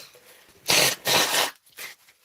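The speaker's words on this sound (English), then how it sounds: "time to blow my nose" Two forceful, noisy nose blows close by, followed by a shorter third puff, with brief pauses between.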